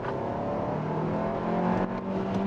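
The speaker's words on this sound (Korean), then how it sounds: "엔진 소리는 굉장히 커지거든요." A facelifted Kia Seltos with an 8-speed torque-converter automatic accelerates hard uphill in sport mode, its engine a steady loud drone heard from inside the cabin with no talking.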